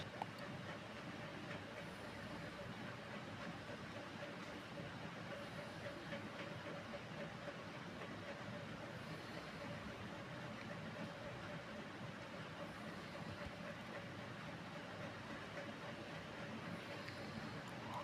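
Washed chicken pieces hit hot cooking oil, giving a loud, steady, broadband sizzle that holds evenly for the whole stretch with no pauses.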